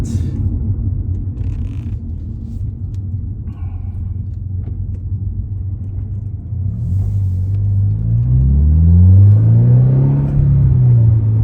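A 2023 Toyota GR86 with a newly installed aftermarket exhaust rumbles deep and loud from close by, holding a steady low idle before rising and falling through several rev swells, with no talking.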